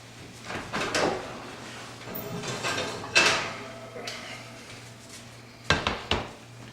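A heavy preheated Dutch oven handled at a hot 450-degree oven while bread goes in: metallic clanks, a rattle of the lid and the scrape of an oven rack, in separate bursts over low background hum.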